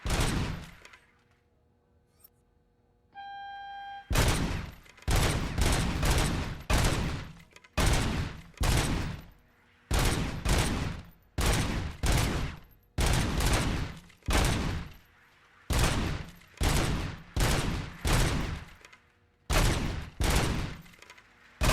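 Rapid bursts of gunfire in the RoboCop: Rogue City video game, a long series of loud, closely spaced volleys with short pauses between them, preceded by a quieter electronic tone.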